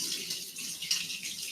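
Warm water runs steadily from a tap for hand washing, a close, continuous hiss and splash.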